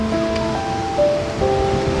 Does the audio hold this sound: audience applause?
no